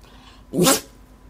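A single short, sharp sneeze bursts out of near silence, close and fairly loud.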